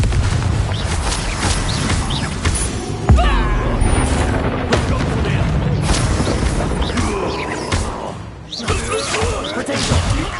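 A Confringo fire spell blasting in Hogwarts Legacy: booming impacts and whooshing bursts sound amid a dense, busy battle mix, with game voices audible in the background.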